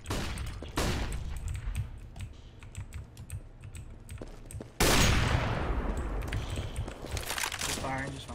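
Rapid gunfire in CS:GO competitive matchmaking on Mirage, sharp bursts of shots with a louder sustained spray midway, under clicking keyboard taps and a voice talking.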